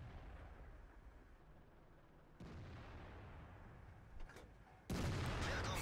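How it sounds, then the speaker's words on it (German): Tank cannon shots in World of Tanks, fired from a Waffenträger on Pz. IV: two abrupt, distant-sounding booms a few seconds apart over a quiet, muffled battlefield hum. "Da kommen auch sofort zwei Schüsse direkt nacheinander."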